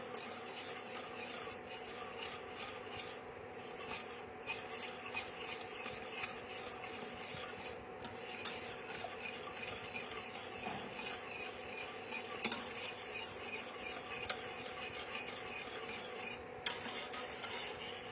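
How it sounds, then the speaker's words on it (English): A whisk scrapes steadily around a pan, with a continuous rasping, scratching texture and faint clinks against the metal sides. It is close and fairly even throughout, with no talking. "Whisk, whisk and whisk it is."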